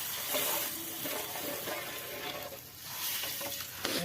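Hot tadka tempering is poured into curd for Punjabi dahi tikhari, giving a continuous hissing sizzle with light stirring clatter, close and fairly steady, with no voices.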